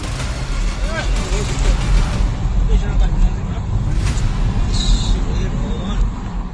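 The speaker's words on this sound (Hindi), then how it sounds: "गाड़ियों को उपद्रवियों से बचाकर दौड़ाया जा रहा है।" Vehicles being driven off at midnight in Malda, West Bengal, fleeing rioters throwing stones. Dense, loud engine rumble and road noise roll on continuously, with passing whooshes and scattered sharper bangs and shouts in the background.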